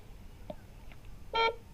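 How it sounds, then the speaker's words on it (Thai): A wireless security camera pairing through the Yoosee app gives a short, bright harmonic beep near the end, preceded by a couple of faint, brief blips over a quiet room background. "เมื่อมีเสียงตุ๊ดตุ๊ดก็เราก็สามารถทำการเชื่อมต่อได้เลยนะครับผม"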